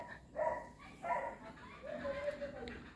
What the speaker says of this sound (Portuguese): Até cachorro apareceu.